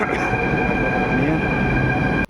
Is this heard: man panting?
no